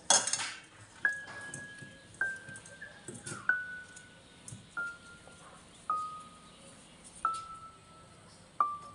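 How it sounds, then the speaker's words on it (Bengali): Sliced eggplant being mixed with turmeric, salt and chili powder in a bowl, with about eight light, evenly spaced metallic clinks ringing out one after another in a quiet kitchen. "এবার সব কিছু মিশিয়ে নিচ্ছি।"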